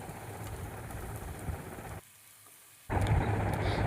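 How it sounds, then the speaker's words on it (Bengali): Onion and tomato frying in a pan with salt, a steady hissing sizzle that briefly drops quiet, then returns louder, alone without talk. "নুনটা দেওয়ার পর আরও কিছুক্ষণ নাড়াচাড়া করে একটু ভেজে নিচ্ছি"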